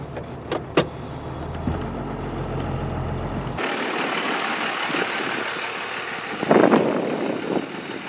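A Cummins-powered square body truck rolling along a dirt road, its engine a steady low drone with a few sharp knocks early on, then giving way to broadband road and wind noise with a brief louder rattle near the end.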